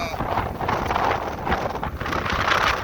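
Wind roaring across the microphone while riding a bicycle along Route 66 against a headwind, a loud continuous buffeting rush with surging gusts, close and heavy throughout.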